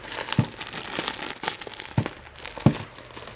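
Plastic wrap being torn and crinkled off a Scholastic book, giving soft, close crackles with a few sharper tearing bursts spaced unevenly, no voices.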